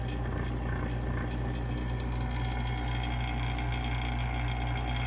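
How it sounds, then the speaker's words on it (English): A vacuum tester runs on a Ford 6R140 transmission valve body, giving a steady close mechanical hum with a low pulsing drone, unbroken and without speech. "while the vacuum tester is running."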